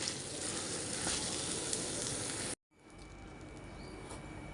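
Potatoes and boiled carrots fry for pav bhaji in a pan, giving a steady, dense sizzle that runs on, breaks off briefly, then resumes a little quieter.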